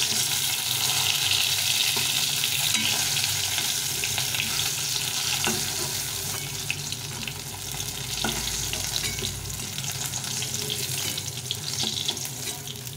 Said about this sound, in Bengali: তো এরকম করে লাল লাল করে মাছটাকে ভেজে নেব।